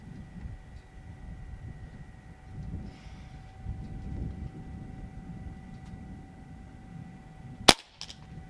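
A single sharp crack from a Crosman Prospect .22 regulated PCP air rifle, heard near the end after a stretch of low outdoor rumble with faint steady tones in the background.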